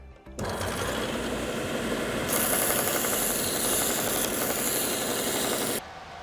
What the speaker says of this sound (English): and I can just sand this out.